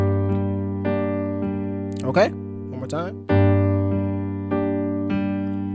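Piano plays the opening call-and-response chords of a song, evenly spaced sustained notes, briefly interrupted midway by someone speaking.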